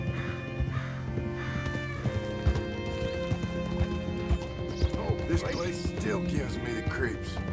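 Horse hooves clip-clop in Red Dead Redemption 2, a steady rhythmic trot running the whole stretch amid game music, crow caws and other ambience, with voices talking over it.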